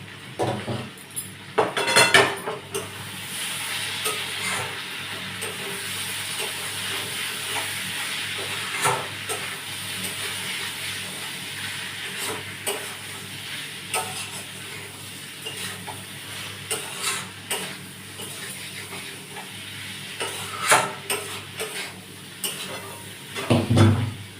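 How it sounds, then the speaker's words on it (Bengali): Small puti fish sauté in a pan with turmeric, cumin and chili powder, a continuous hiss and sizzle under irregular spatula scrapes and clinks, close by, with louder clattering at the start and end. "এর মধ্যে হলুদ গুঁড়ো, জিরে গুঁড়ো আর লঙ্কা গুঁড়ো দিয়ে ভালো করে আবার কষে নেবো।"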